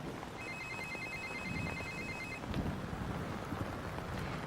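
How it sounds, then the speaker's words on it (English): An electronic telephone rings in a repeating pulsed trill for about two seconds over faint background noise and a light rustle, then stops, with no voices heard. "It's gonna ring in a few seconds. You might want to take the call outside."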